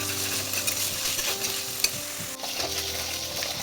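Diced potato with ginger-garlic paste frying and being stirred in a pan for a fish and jika curry, a steady sizzle with scraping spoon strokes and occasional clinks, close and continuous without speech.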